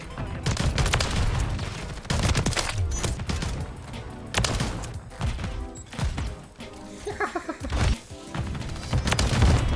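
A submachine gun fires in the video game Modern Warfare 3, with dense, rapid bursts of gunfire and booming impacts that repeat throughout with little break.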